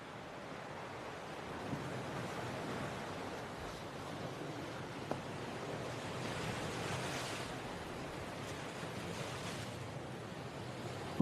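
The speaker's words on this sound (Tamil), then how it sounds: "காத்து ரொம்ப திக்கா இருக்கு." A strong wind blows steadily by the sea, a dense roaring rush with crashing surf mixed in and buffeting on the microphone throughout, no voices.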